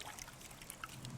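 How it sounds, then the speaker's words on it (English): Water trickling as a macroinvertebrate sampling net is rinsed, a faint, brief dribble with small splashy drops in a quiet outdoor setting. "And then you rinse the net off"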